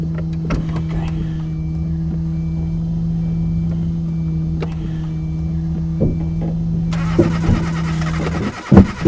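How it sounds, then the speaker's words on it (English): A car engine hums in a steady low drone with sporadic clicks and thumps, then a harsh burst of noise and sputtering near the end as it falters and stalls. "Shit, the car stalled."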